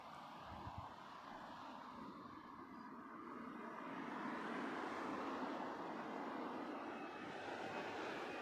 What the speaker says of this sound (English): So that 380 will continue its taxi for departure.